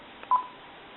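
A single short keypad beep sounds from a Uniden 2060 DECT 6.0 cordless phone, a clean tone against quiet room hiss.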